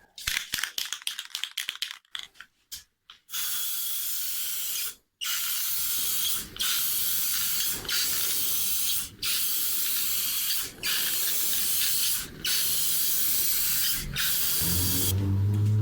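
Bursts of aerosol spray laying clear top coat finish on a guitar, close and hissing, with short rattling shakes of the can at the start, then regular sustained sprays broken by brief pauses.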